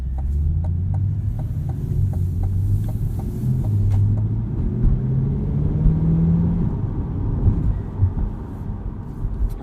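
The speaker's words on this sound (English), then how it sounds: "We get the active exhaust in this car," A 2020 Chevrolet Corvette Stingray coupe in sport mode with active exhaust, a loud, deep, steady engine drone that swells and shifts pitch as the car pulls, heard from inside the cabin with no talk.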